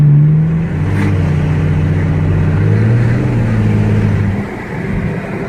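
A car engine runs under throttle with the windows rolled down at a car meet, a steady droning hum with a low growl that shifts in pitch and eases off near the end, heard from inside the cabin.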